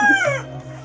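A single short cluck from a bearded chicken, close and fairly loud, with a low hum underneath.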